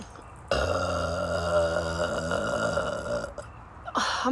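A single long, loud burp starts abruptly and rumbles on for about three seconds with a deep, throaty, vibrating tone, followed by a short breathy sound near the end.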